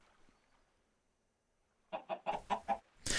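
Chickens in the Minecraft modpack Tekkit 2 give a short run of about five quick clucks after near silence, ending on a louder squawk, with no talking.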